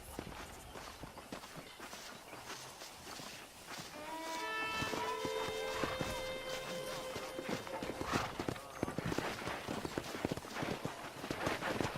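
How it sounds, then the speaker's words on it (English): Horse hooves clip-clop in steady, fast-paced steps in the video game Red Dead Redemption, layered over a rising tonal whinny or music swell and ambient game sound, moderately close. "let's see if we can't wrangle some horses."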